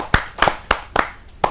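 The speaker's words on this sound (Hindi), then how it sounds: "जोरदार ताली के साथ हम कपिल मिश्रा जी का स्वागत" A few distinct hand claps at a televised Kavi Sammelan poetry gathering welcoming a poet: five sharp, separate claps about a third of a second apart, close and fairly loud.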